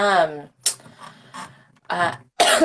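A few harsh coughs and throat-clearing bursts close by, separated by short pauses, with a voice heard in between.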